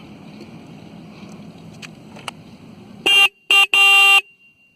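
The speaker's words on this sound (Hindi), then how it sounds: "इसमें सिंगल हॉर्न सिस्टम है, जिसकी आवाज़ भी कुछ हद तक ठीक है" Three short, loud electronic honks from the single horn of a 2019 Bajaj Vikrant V15 motorcycle, one brief and two longer, blare after a stretch of quiet outdoor background noise.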